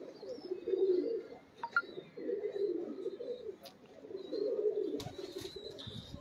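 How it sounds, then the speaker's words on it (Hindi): A flock of Badshah pigeons coos in warm, throaty rolls at close range, the calls swelling and fading in overlapping waves with a few brief thumps and rustles near the end. "ये बादशाह कबूतर है"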